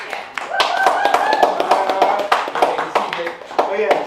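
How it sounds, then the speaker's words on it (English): An audience at a creators' board meeting on game night claps hands in a loose burst of sharp taps, mixed with lively chatter and voices talking over it. "Can we clap that?"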